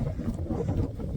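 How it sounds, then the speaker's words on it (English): Wind picking up on Pendle Hill in open upland: a steady low roar buffeting the microphone with rumbling gusts throughout, no other sounds standing out. "Wind's picking up now."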